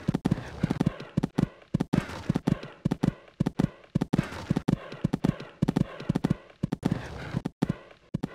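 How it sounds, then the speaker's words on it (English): Hooves of two horses galloping on a cross-country course in the Equestriad 2001 game, a fast, steady drumming of near, loud hoofbeats throughout, with faint commentary underneath. "These two are really galloping along now."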